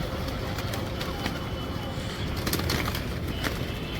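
Pigeons coo among a flock kept by a pigeon fancier, soft repeated calls set in a noisy outdoor background with occasional wing flaps and passing traffic.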